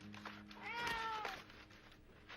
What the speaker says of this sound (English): you'll never guess who's inside here. His cat